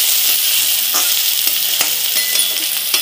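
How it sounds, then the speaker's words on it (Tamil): Sliced onions and capsicum sizzling in hot oil in a pan while cooking Gobi Manchurian, a dense, close hiss broken by a few soft scrapes and clicks as the vegetables are stirred; no talking. "இப்போ இந்த வெங்காயம் நல்லா வதங்கட்டும்."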